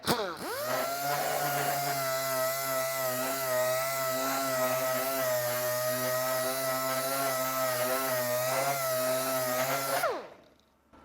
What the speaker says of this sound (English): Then we'll jump onto our 80 grit on the DA.